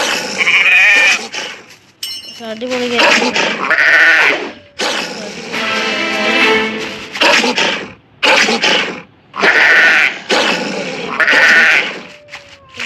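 Goat bleats from an Android mobile video game come in repeated loud bursts, mixed with other game sound effects and a brief spoken remark.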